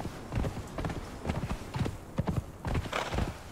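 A horse gallops in the video game Conan Exiles, with rapid rhythmic hoofbeat clip-clops repeating steadily at close range for a few seconds.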